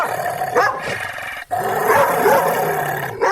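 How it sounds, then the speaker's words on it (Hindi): A dog named Tommy barks and growls close by in a rough, continuous run lasting a few seconds, with one brief break partway through and no voices. "टॉमी उन पर भौंकने लगता है।"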